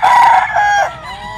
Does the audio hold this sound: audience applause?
no